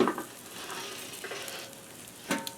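Steaks sizzle on a smoker grill just after being flipped, a soft steady crackling hiss up close, with a brighter burst of frying near the start and another near the end.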